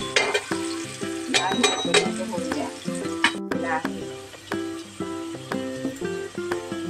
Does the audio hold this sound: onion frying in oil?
yes